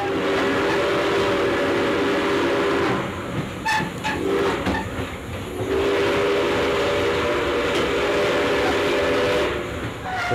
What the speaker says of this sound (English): As the engine belched thick black smoke, and the train picked up speed.